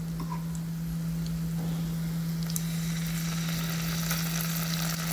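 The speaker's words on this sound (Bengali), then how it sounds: "এখানে পেঁয়াজটা হালকা বেরানো হয়ে আসছে, তো উপর থেকে আমি কিছু এখন জিঞ্জার পেস্ট দিয়ে নেব।" Onion with ginger paste frying in a pan gives an even, continuous sizzle that stays close and constant, over a low steady hum, with no talking.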